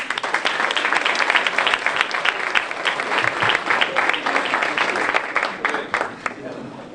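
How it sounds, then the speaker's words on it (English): Town hall audience applauding sponsors, a loud, continuous round of many hands clapping close by, with scattered voices and cheers mixed into the crowd throughout. "Let's give our sponsors a big round of applause"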